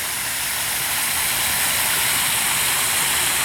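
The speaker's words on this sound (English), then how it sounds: "a nice waterfalls." Campus waterfall at the University of Southern Mississippi rushes in a steady, bright, broadband hiss of falling water, close and unbroken, with no voices.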